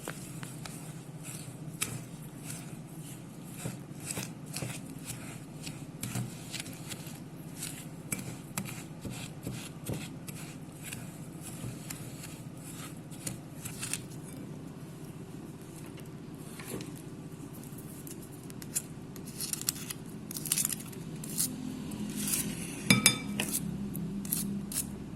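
Soft butter and brown sugar are mixed in a bowl with quiet, steady scraping and scattered light clinks of a utensil against the bowl, faint and close.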